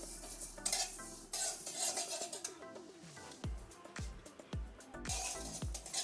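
Fenugreek seeds and fennel seeds sputter and crackle in hot oil for an achar, with sharp popping bursts and clinks of a spoon against the pan, close and fairly loud, with no talking.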